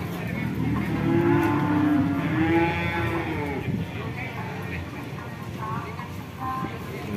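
Cattle moo loudly several times in a busy cattle market in Jetis, Ponorogo, with voices and crowd chatter running underneath.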